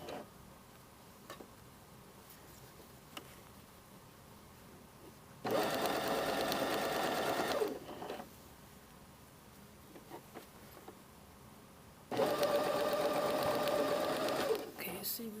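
A sewing machine stitches a jacket's lining sleeve seam, starting from the underarm notch, in two steady bursts of a few seconds each separated by quieter pauses with faint clicks and handling.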